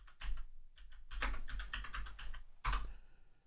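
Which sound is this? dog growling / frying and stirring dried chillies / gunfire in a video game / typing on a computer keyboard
typing on a computer keyboard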